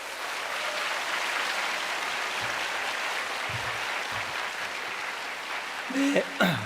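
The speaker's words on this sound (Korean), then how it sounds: "우리 생명의 말씀 증거해 주실 정천석 지파장님을 힘찬 박수로 모시겠습니다." A church congregation at a large scripture rally claps steadily in a dense, even wash of applause welcoming a speaker to the stage, with a few brief voices near the end.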